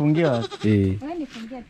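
A goat given to a family bleats loudly and close by in several wavering calls, the first long and strong, followed by shorter softer ones.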